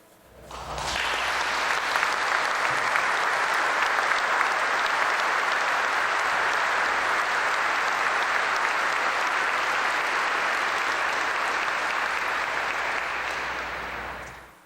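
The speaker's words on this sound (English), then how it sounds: "You deserve a great round of applause, and I thank you." A big round of applause from the audience at an F-22 Raptor ceremony swells in after a sharp start, holds as a loud, dense, even roar of clapping for over thirteen seconds, then fades out.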